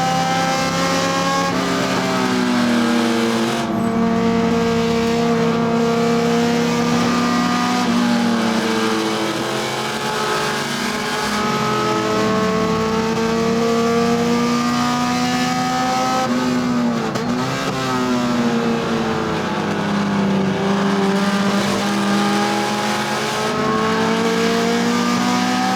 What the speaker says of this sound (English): Red Camaro versus red CRX.